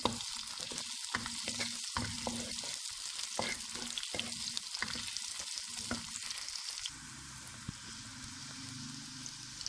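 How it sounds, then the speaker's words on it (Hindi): Ginger and garlic frying in a pan over browned onions, a dense crackling sizzle with frequent sharp stirring knocks that thin out, leaving a calmer, quieter sizzle toward the end, with no voices. "अब अदरक लहसुन इसमें डालते हैं"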